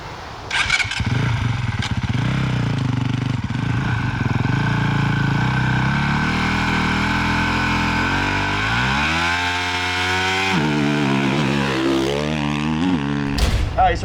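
A Honda dirt bike engine fires up and revs hard on a practice start, climbing through several loud rising surges and gear changes before a sharp final burst; close and dominant with no talking.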